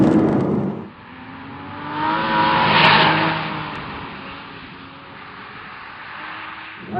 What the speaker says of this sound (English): Oh, I love Porsche engines. Flat 6 just sounds so good.